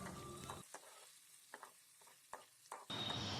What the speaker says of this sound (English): take 1 tablespoon butter, add ginger, garlic and saute it well